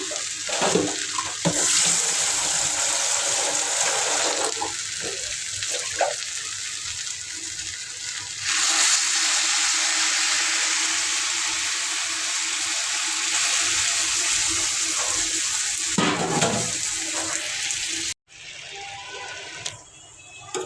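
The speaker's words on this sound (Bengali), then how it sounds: "এখন পানি দিয়ে দিব।" Water poured into a hot cooking pan produces a long rushing, bubbling hiss that swells and fades in waves, then cuts off briefly near the end before a quieter simmer resumes.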